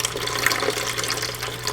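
Water pours steadily while a betta fish tank is refilled, a continuous splashing, bubbling stream heard close by with no break.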